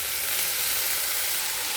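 Potato pieces frying in oil with browned onions give a loud, continuous close sizzle and crackle while being stirred, with no voices.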